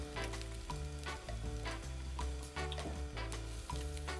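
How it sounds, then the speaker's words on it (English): Dumplings pan frying in oil, a dense continuous sizzle and crackle at close range, steady and even throughout with a few light stirring touches and no voices. "These are gonna go right from being pan fried"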